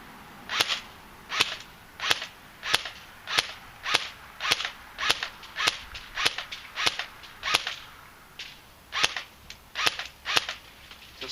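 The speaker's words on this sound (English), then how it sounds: "I'm gonna set it to semi-automatic first off and try to go for accurate shots" Jing Gong AK-47S airsoft rifle firing semi-automatic shots outdoors, around twenty sharp snapping cracks in a steady, slightly uneven rhythm, close and loud.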